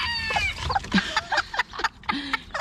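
Bantam hens and other chickens in a coop, close, busy clucking and short squawks overlapping in quick bursts.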